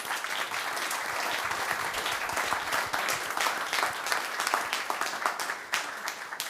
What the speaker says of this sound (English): So just a round of applause for our panel, please.